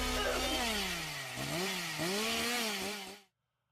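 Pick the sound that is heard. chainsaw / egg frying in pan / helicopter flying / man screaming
chainsaw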